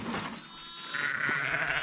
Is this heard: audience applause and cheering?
no